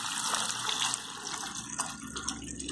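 Water pours steadily into a cooking pan, about two and a half tumblers measured for rice flour upma, a continuous close gushing splash with no talking.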